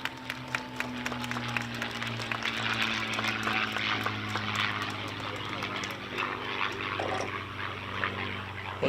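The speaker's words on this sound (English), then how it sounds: "From Tri-State Warbird Museum in Batavia, Ohio, here's the P-51 Mustang," A P-51 Mustang warbird from a museum in Batavia, Ohio, flies past at an outdoor bridge celebration, its propeller engine a steady drone that swells and fades while an announcer talks over a crowd.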